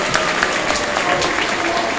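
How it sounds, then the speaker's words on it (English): A round of clapping from a small crowd at a sea lion show, steady and moderately loud, rattling on for a couple of seconds. "Give him a nice little round of applause."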